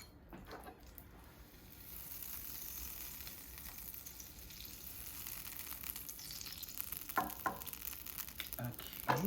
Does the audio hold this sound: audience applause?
no